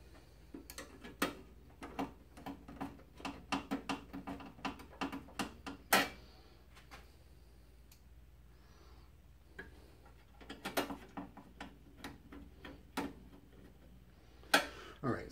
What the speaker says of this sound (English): I'm going to throw the screws back in it so it's not walking all over the places we're trying to